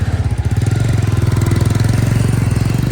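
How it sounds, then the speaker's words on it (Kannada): A 400cc motorcycle engine runs loud and close, with a steady rapid thumping pulse and a rough, throbbing idle that holds unchanged throughout, with no voices over it. "400cc ಬೈಕ್ ಗುರು, ಹೇಗೆ ಹೋಗತ್ತೆ ನೋಡಿ"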